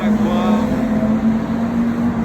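A Jaguar car passes through a casino square, its engine rising in a loud, close rev before settling into a steady drone with some background voices.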